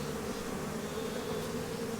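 Honeybees swarm around an open hive as a healthy colony full of eggs is inspected, their buzz a steady, dense drone that runs unbroken and fairly close throughout, with no talking.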